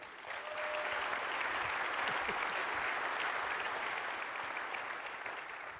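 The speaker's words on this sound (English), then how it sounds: "An applause, please" Sustained audience applause at a large SOLIDWORKS World 2019 general session, a dense, steady wash of clapping from a big crowd welcoming speakers onto the stage, holding evenly before easing slightly at the end.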